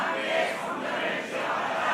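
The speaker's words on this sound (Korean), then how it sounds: "세 번째 할 때는 좀 더 큰 소리를 합니다." A church congregation shouts together in unison during a Sunday morning worship service, a loud sustained crowd roar filling the room for about two seconds with no distinct speech.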